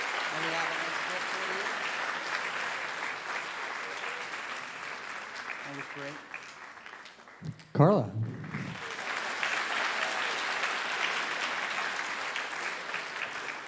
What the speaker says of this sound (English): maybe we can give her a round of applause.